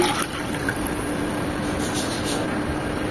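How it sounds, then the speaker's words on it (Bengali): Coconut water poured from a green coconut into a pudding pot, a steady close liquid stream splashing and trickling without pause. "যে পাত্রে পুডিংটা তৈরি করব ওই পাত্রে"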